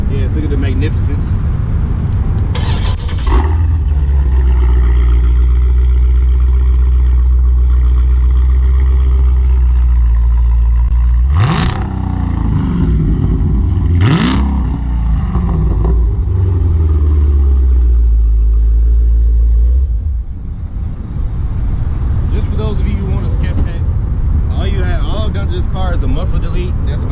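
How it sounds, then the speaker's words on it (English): A car, apparently a modified muscle car being compared with a Mustang, starts and idles with a loud, steady low rumble, then gives two sharp revs around the middle before settling back to idle; faint voices are heard near the end. "we're about to do, gonna do a sound test on my car"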